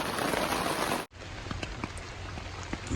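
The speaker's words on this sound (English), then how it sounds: "It's still raining." Steady rain falls on a tent at a campsite at Indian Cave, a dense continuous patter with scattered louder drops, broken by a brief near-silent gap about a second in before the downpour resumes.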